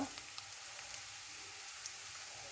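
Onions frying in oil with salt produce a faint, continuous soft sizzle with light crackles, quiet and steady throughout.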